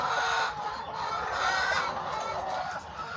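Chickens and roosters, including tinted breeds, cluck continuously in a busy new coop, with overlapping calls and a steady background of flock noise.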